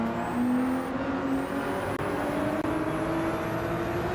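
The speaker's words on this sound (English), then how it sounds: "I'm going to brake early because I think this might end in a bit of a weird situation through here" A car braking in the video game Gran Turismo 7: a steady engine drone with a shifting, falling tone as the car slows, plus a faint high whine and brief dips in the sound.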